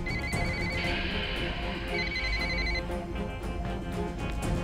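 A mobile phone rings with a repeating electronic ringtone melody, close and clear, the tone pattern cycling a few times without speech.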